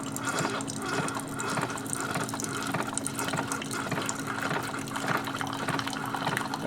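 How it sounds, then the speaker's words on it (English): A Keurig 2.0 coffee maker draws water from its reservoir during brewing, giving a continuous gurgling, pumping flow with a steady mechanical hum underneath, close and moderately loud, without talk. "it's pulling the water from the reservoir."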